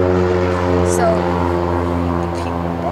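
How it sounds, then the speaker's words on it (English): A propeller airplane passes overhead, a steady droning hum with layered engine tones that holds for the whole stretch and sounds fairly close, with talking over it. "thank you airplane"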